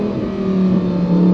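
A Lamborghini Performante Spyder engine revs hard and close, a steady loud droning roar that holds for about a second and a half with no talk over it.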